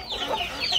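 A chicken in a coop gives a brief, close burst of clucking and squawking, less than a second long.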